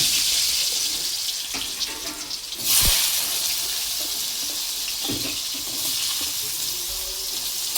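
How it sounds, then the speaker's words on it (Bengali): Potato pieces frying in hot oil in a kadai wok for aloo soyabean curry, a loud steady hiss and sizzle that surges sharply for a moment as food is stirred or added, then settles to a constant bubbling fry. "আলুগুলো একটু লাল লাল করে ভেজে নিয়ে তারপরে সোয়াবিনটা ভাজবো।"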